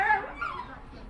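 A dog barks and yelps in short bursts on a riverside walk in Kingston upon Thames, moderately close and set against outdoor street ambience.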